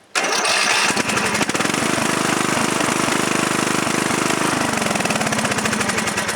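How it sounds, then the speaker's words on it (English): A riding lawn mower engine converted to run on propane cranks briefly and catches, then settles into a loud, steady close-up running drone with no talking. "I crank open the valve, turn it off, crank it till it fires, then open the valve, and it runs just fine."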